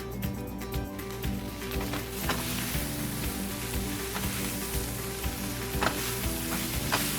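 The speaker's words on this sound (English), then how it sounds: "Now I can mix it up with the onions and the peppers and the garlic a lot easier." Kale sauteing in a pan with onions, peppers and garlic, a steady close sizzle with occasional stirring scrapes and crackles throughout, no voices.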